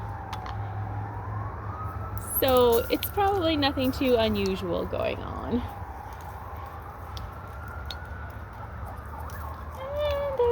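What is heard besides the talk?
sirens from a nearby highway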